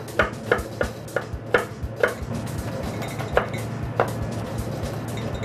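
A knife chops half a medium onion on a cutting board, with a run of evenly spaced, crisp thuds that grow quicker and softer before a couple of final strikes, close up in a quiet kitchen.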